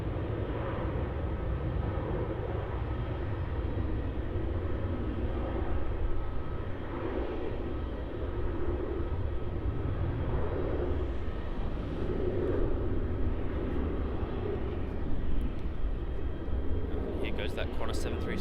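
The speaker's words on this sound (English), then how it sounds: "That Qantas 737 off to Brisbane." A Qantas Boeing 737 departs Melbourne Airport for Brisbane, a low steady engine rumble held throughout with a voice talking over it.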